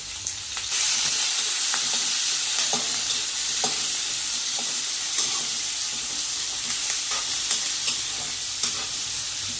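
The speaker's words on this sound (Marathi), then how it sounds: "जरा कांदा भाजू दे." Onions fry and are stirred in a pan, a steady close sizzle running throughout under repeated light scraping and clinks of the spoon, with no talk.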